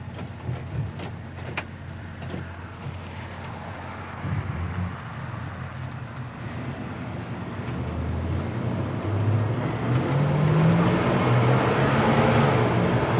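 A 1972 Buick GS Stage 1 accelerating on the road, engine note rising steadily and growing louder toward the end with wind and road rush around it, no voices.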